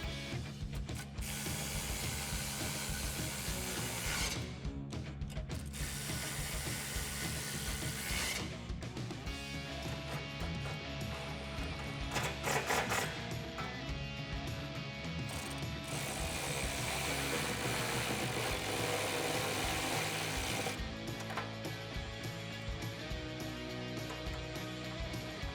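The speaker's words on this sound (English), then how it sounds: "we're gonna bolt back down all of our hangers using a 13mm socket and the factory hardware" A hand ratchet with a 13mm socket bolts exhaust hangers back down on a 2015-2020 Mustang GT, giving long runs of loud, close, rapid clicking with a few brief pauses.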